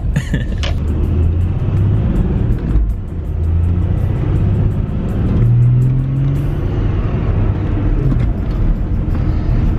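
An Audi A4 3.0 TDI with the muffler deleted and its exhaust valve open drones and revs in rush-hour traffic, a loud, deep exhaust note that rises and falls close by.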